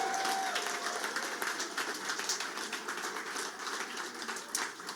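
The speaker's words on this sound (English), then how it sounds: "Give a big round of applause to my team" Supporters at an Election Day 2024 victory rally applaud, a crowd of clapping hands rattling steadily for several seconds with some scattered louder claps, fairly distant.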